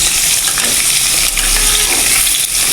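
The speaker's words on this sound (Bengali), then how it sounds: "আলুগুলো লাল করে ভেজে নেব।" Potato pieces for a rohu fish curry fry loudly in a pan, giving a steady, close sizzle with crackling bursts and faint stirring scrapes, and no one talking.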